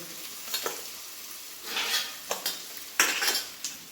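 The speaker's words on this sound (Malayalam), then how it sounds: "ഇഞ്ചി വെളുത്തുള്ളി പേസ്റ്റാണ് നമ്മൾ ആദ്യം ഇട്ടത്." Ginger garlic paste fries in a pan for Kerala-style beef curry, a steady sizzle broken by several loud scraping stirs of a utensil against the pan, close and clear with no talking.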